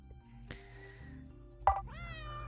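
A cat gives a short, close meow over a faint background hum, with a soft click or thump just before it.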